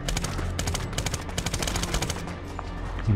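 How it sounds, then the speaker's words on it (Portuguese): Dense, loud gunfire from the 2010 video game Medal of Honor, with rapid automatic bursts and overlapping shots filling the whole stretch without pause. "É uns tiros assim"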